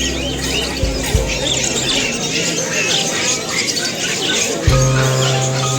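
Small birds chirp and squawk at a busy Kolkata bird market, a dense, constant layer of high calls mixed with market bustle and people talking in the background.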